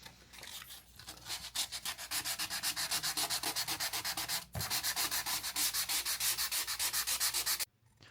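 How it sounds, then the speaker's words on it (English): Wood is sanded by hand inside an RV cabinet, a rhythmic scraping of rapid back-and-forth strokes, loud and close, briefly interrupted by a knock midway before the strokes resume and then stop abruptly. "after the sanding is done, it is a matter of removing the dust caused by the sanding"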